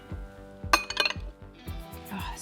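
Berries tipped into serving bowls for a warm vanilla custard dessert, giving a few light clinks and taps of dishware over a soft, steady background hum.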